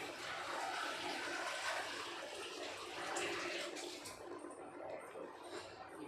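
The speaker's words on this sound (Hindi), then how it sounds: "पानी में डाल दिया कुमड़े को" Cut pumpkin pieces dropped into a pot of water in a home kitchen, giving a steady, close watery rush and splashing that eases off toward the end, with no speech.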